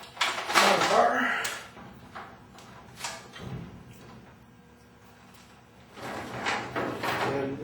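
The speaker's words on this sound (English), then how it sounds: "And the garage door goes up." A garage door rising after a torsion spring replacement, with spring tension high enough to lift it on its own: a close rolling rumble with clattering bursts at the start and again near the end.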